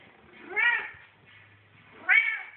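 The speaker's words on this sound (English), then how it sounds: "Oh my goodness, purring and everything?" A Bengal cat gives two distinct meows about a second and a half apart, close and clear against a quiet room, with a faint low purr in between.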